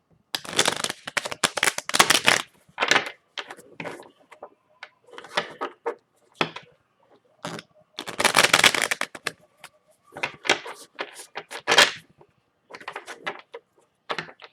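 Tarot cards being shuffled by hand, with bursts of riffling and sliding card noise coming in uneven clusters, separated by short pauses, close and fairly clear.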